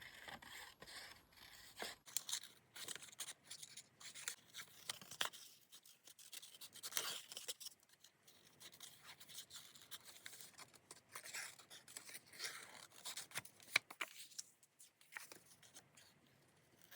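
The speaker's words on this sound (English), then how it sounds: "I guess we'll cut this one out." Scissors cutting out a paper cardinal bird shape for an artist trading card craft, a series of faint close snips and paper rustles in irregular bursts, with quiet talking in between.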